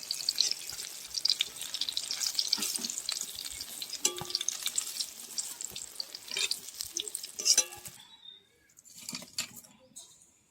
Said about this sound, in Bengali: এখন আমি বেগুন ভাজাগুলো তেল ধরিয়ে তুলে নেব।